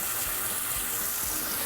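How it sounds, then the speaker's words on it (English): Hot water runs steadily from a kitchen tap in a home cooking setting, a continuous close, even gushing stream with no pauses or talk. "I'll just do hot water."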